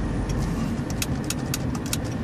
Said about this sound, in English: That car just passed me.